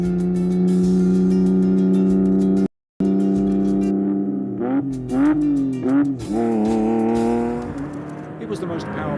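A Ferrari 599 GTB Fiorano V12 sports car roars loud and close, holding a steady high drone and then revving up and down in rising sweeps, with a brief cut partway through and a voice talking over it.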